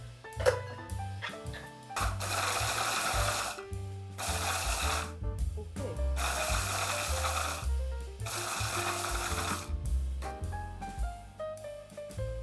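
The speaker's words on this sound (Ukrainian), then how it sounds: "Кидаємо в блендер" A blender grinding frozen fruit in loud bursts, stopping and restarting several times with rattling chunks and brief pauses between pulses.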